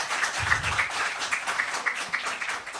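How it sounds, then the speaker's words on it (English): A conference audience at Launchpad 2021 applauds the panelists with sustained, fairly even clapping that fills the room for several seconds, with little talk over it. "A big round of applause for ladies and gentlemen."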